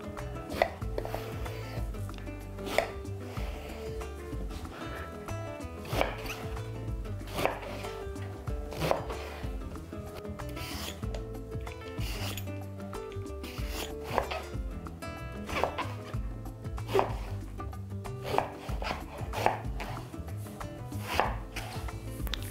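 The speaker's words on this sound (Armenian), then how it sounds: "Որից հետո կտրատում ենք միջին չափի" A knife chops beef into medium pieces on a board with steady, close, sharp knocks repeating every second or so throughout, alone without talk.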